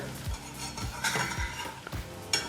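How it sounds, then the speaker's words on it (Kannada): Aloo palak cutlets shallow-frying in a pan are turned over: a spatula clinks and scrapes against the pan in quick irregular taps above a faint sizzle. "ಈಗ ಮತ್ತೊಂದು ಕಡೆನೂ ತಿರುಗಿಸಿ ಐದು ನಿಮಿಷ ಶಾಲೋ ಫ್ರೈ ಮಾಡ್ಕೊಳ್ಳೋಣ"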